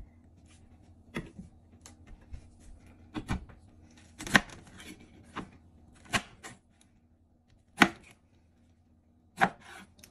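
A large peeled pineapple is sliced with a knife, producing about seven separate sharp chopping thuds at uneven intervals, close and clear over a quiet background.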